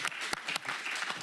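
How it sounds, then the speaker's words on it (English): Brief, faint applause from a few people in a county board of supervisors meeting room, a short patter of claps with a couple of sharper hits. "I think we should give Supervisor Stevens and Supervisor Boone a round of applause"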